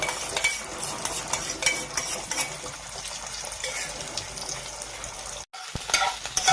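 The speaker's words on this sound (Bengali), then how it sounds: "তেলটা গরম হয়েছে, ডিমটা দেওয়া আছে," Egg frying in hot oil in a pan for egg bhujia, a steady close crackling sizzle with stirring scrapes, continuous and fairly loud, with a brief dropout near the end.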